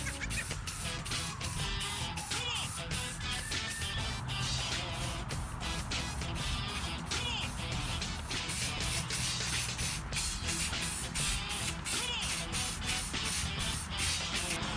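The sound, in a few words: spray paint being sprayed on foam costume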